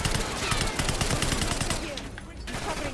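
Dense gunfire from the video game Call of Duty: Black Ops 6, rapid overlapping shots and bursts in a steady loud barrage, briefly thinning near the end, with game voices faintly underneath.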